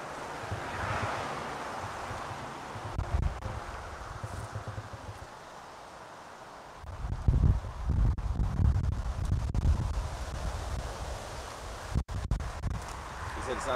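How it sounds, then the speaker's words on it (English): Wind blows outdoors in strong, low rumbling gusts against the microphone, easing briefly and then surging again, with faint rustling. "He said it sounds very windy."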